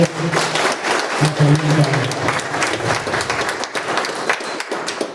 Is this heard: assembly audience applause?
yes